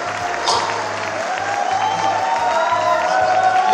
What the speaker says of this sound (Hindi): आप लोग अपनी उस कवयित्री के लिए जिसको आपने बुलाया है भरपूर तालियां बजाइए